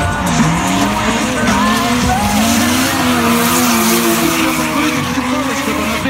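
Drift cars at a drift competition, loud continuous tire squeal with wavering screeching tones over roaring engines, close and sustained throughout.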